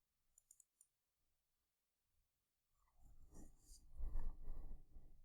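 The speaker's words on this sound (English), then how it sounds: "Now we can double click on the title." A computer mouse gives a few quick, faint clicks, including a double click, in a quiet room, followed by a louder, muffled rustling handling noise.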